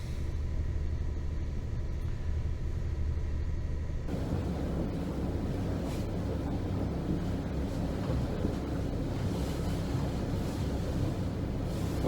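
Steady wind buffets a microphone aboard a Dutch trawler yacht, a continuous low rumbling roar that grows denser and louder partway through, with no voices.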